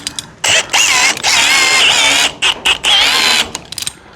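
A cordless drill drives a rope-rescue ascender on a Z3 Fire unit, a loud close whirring whine in several bursts with short pauses, pitch wavering as the load changes, with gear ratcheting between runs.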